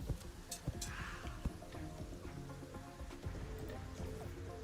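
Rain in a video game patters in a faint, continuous wash, dotted with small sharp clicks and taps.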